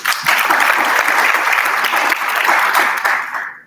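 Audience clapping after a presentation at a national adolescent health forum, a full loud round of applause that holds steady for several seconds, then cuts off abruptly.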